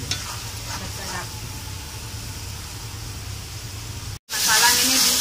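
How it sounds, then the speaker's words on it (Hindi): Garlic and tomato masala for a mutton nargisi kofta curry fries and sizzles steadily in a pan while it is stirred, a continuous close crackle that ends with a brief cut and a louder burst of frying. "इसको भी अच्छी तरह से भूनेंगे जब तक टमाटर अच्छी तरह से भून नहीं जाए।"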